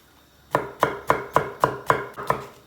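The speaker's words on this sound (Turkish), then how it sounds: "Hemen biberini doğruyoruz." Seven sharp, evenly spaced knife chops through a bell pepper on a cutting board, close and crisp, with a quiet pause before the first strike.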